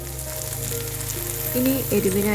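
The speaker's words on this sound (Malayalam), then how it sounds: "ഇനി ഇത് ഇടയ്ക്കിടെ ഒന്ന് ഇളക്കിക്കൊണ്ടിരിക്കാം." Sliced okra frying on a flat tawa and stirred now and then, with a loud steady sizzle close up and a background tone running beneath it, no voices.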